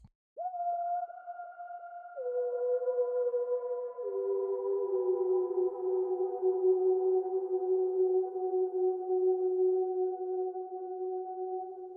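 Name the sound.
distant hollow sine wave synth sound from Hades 2 music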